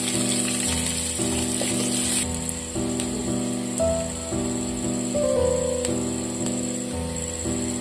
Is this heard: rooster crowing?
no